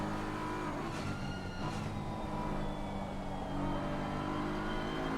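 Steady, close engine drone from a BMW race car in a racing game at Zandvoort, a continuous harmonic whine holding nearly constant pitch, with faint brief whooshes early on.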